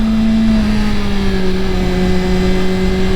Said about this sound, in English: Notice how I just rolled off my throttle